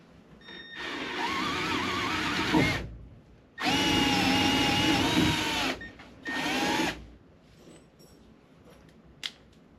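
Power drill running a countersink bit in three bursts, a long whining run, a second long run and a shorter one, close and loud with quiet gaps between, ending in a faint click.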